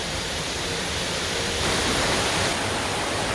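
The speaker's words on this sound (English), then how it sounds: "another cool cascade" Creek water rushing steadily down a rocky boulder cascade in the Caboolture River falls area, a dense, continuous broadband roar that swells slightly louder partway through, with no voices.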